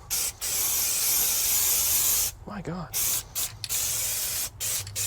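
Aerosol spray paint cans hiss loudly and close up as they coat a 1956 Chevrolet hot rod, in long continuous bursts broken by short pauses, with a brief exclaimed voice in one gap.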